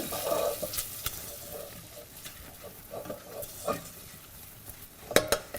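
Flour being stirred into rabbit fat in a hot pan, with soft sizzling under repeated scraping and stirring strokes and a few sharper utensil clicks near the end, close and fairly quiet.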